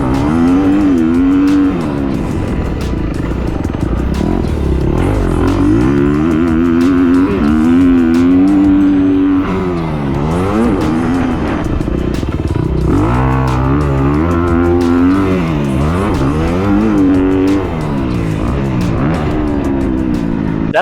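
A 2024 Kawasaki KX250F dirt bike is ridden hard on a motocross track during suspension testing, its engine screaming loud and close with repeated rising and falling revs through gear changes, no talk.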